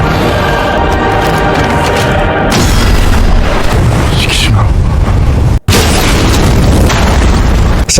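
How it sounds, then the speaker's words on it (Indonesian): A huge explosion as a plane slams into Godzilla's mouth in the film Godzilla Minus One: a loud, sustained roaring blast with heavy rumble. It fills the whole stretch, broken only by a brief dropout. "tiba-tiba datang Shikishima dengan pesawatnya lalu menabrakkan ke mulut Godzilla hingga meledak"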